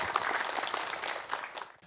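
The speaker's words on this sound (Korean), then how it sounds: "윤여준 전 환경부 장관의 강연 큰 박수로 청해 듣도록 하겠습니다" A citizens' talk-concert audience in Gwangju gives brief, fairly quiet clapping that welcomes a former environment minister to the lecture stage, fading within two seconds.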